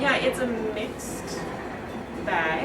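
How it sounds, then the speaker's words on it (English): A train rolls past on railway tracks right beside an old art space, its low rumble and clatter running steadily under a conversation between people talking nearby. "That's a train going by."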